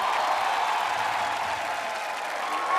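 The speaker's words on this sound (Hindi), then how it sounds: "जोरदार तालियां होनी चाहिए" Studio audience applause on an Indian TV comedy show, a steady wash of clapping held at an even level for a few seconds with no talk over it.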